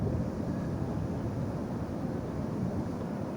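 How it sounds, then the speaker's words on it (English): Wind gusts steadily across an open football stadium during a league match, a continuous low rumbling buffet on the microphone with no voices. "it's getting a little bit windy here at the Rizal Memorial Stadium"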